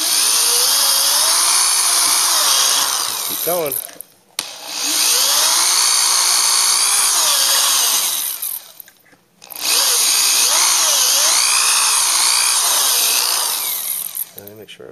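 A power drill whines loudly in two long sustained bursts with a brief pause between them, grinding through a metal angle for a motor mount up close; a voice speaks briefly.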